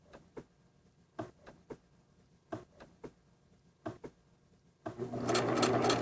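A sewing machine stitches a quilt binding with short bursts and separate clicks, then settles into a steady, louder run of fast stitching near the end.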